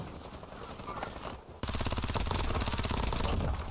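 Rapid gunfire in the shooter game Warzone, including sniper shots, loud and dense, jumping to a continuous fast burst halfway through with game sounds underneath.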